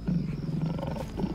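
A tiger in a royal palace garden gives a deep, sustained rumbling roar, loud and close, with no talk over it.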